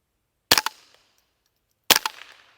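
Two sharp, loud rimfire reports from a Ruger 10/22 rifle fired at a 4-inch steel plate 100 yards away, spaced about a second and a half apart, each trailing off in a brief ringing decay with no talk.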